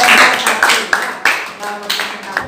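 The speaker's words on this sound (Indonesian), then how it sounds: "tepuk tangan dulu" A few sharp claps from a classroom group, sparse and uneven, mixed with ongoing talk and room chatter.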